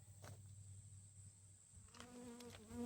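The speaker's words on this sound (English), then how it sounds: "Go away, bee." A bee buzzes in a garden, a faint steady drone close by, with soft rustling and handling sounds around it.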